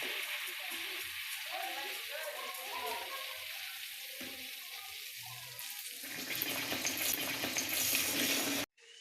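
Pithas of sweet batter made with jaggery and sugar fry in hot oil over medium heat, a steady broadband sizzle that swells louder and brighter partway through, with faint running-water-like texture and no talk.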